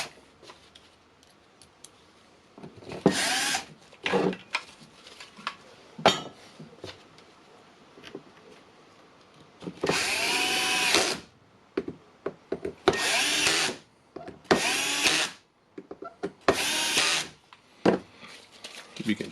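A power drill drives screws to close up a workpiece, several short loud whirring bursts separated by pauses, with quieter handling clatter in between.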